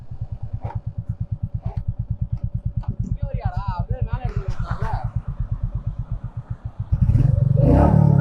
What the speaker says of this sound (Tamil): த்ராட்டில் பண்ணும்போது வைப்ரேஷனே இல்லை பாருங்க, எவ்வளோ த்ராட்டில் கொடுக்குறேன்